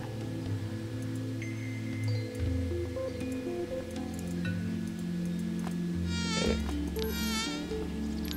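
Mosquitoes in The Tiny Bang Story buzz in two distinct whining bursts near the end, wavering up and down in pitch over a steady layer of game music and ambience.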